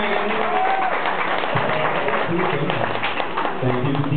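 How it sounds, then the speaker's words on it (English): Warm crowd applause greets a parade crew's captain and deckhand, dense and continuous clapping mixed with cheering voices and murmurs throughout the short stretch. "a warm round of applause for Captain Dustin and his fearless deckhand"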